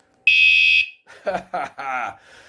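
An ONVIAN bike alarm with a motion sensor sends out one loud, piercing, steady electronic tone for about half a second, close by, and someone speaks right after it.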